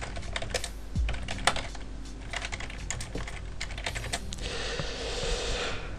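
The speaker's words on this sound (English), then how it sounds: "I just type something random." Someone types on a computer keyboard, producing quick, irregular close-up key clicks and taps in bursts for several seconds in a quiet room.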